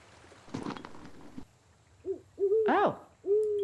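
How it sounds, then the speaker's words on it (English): An owl hoots in Colossal Cave 3D, several clear rounded hoots that grow louder toward the end, following a brief soft rustle, with no talk. "I keep hearing an owl."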